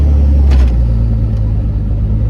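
A heavy 700hp Cummins diesel truck engine drones loudly with a deep low rumble, holding steady and easing slightly rather than climbing into a clear rev.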